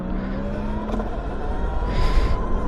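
A Kawasaki Z7 Hybrid motorcycle pulls away in first gear running fully electric, with a steady low rumble, a thin rising electric whine and a brief hiss of passing air, close and continuous.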